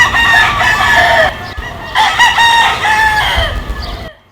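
Several roosters crow and cluck loudly and close by, with repeated bursts of crowing separated by short pauses and low background rumble.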